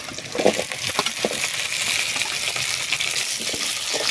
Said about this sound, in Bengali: এখানে আমি সজনে ডাঁটা অল্প আছে তাই এখন ভেজে দিচ্ছি